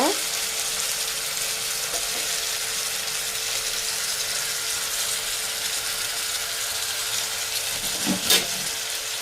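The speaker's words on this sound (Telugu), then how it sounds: "ఆయిల్ పోసుకున్న తర్వాత అల్లం ముక్క, కొంచెం అల్లం ముక్క అన్నమాట." Ginger pieces frying in hot oil for tomato chutney, a steady bright sizzle that crackles continuously throughout, close and loud, with a brief stirring scrape near the end.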